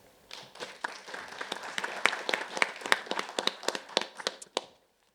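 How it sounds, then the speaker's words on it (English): A debate audience gives a round of applause for a speaker: dense, many-handed clapping builds from a quiet start, holds at a steady moderate level, then stops abruptly. "a round of applause for Bakaer Noble"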